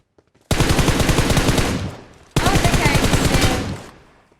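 Automatic gunfire in the video game PUBG Mobile: two long, rapid bursts of loud, close machine-gun shots, each lasting about a second and a half, separated by a brief pause.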